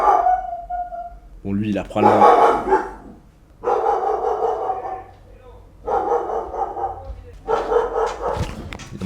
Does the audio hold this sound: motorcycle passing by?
no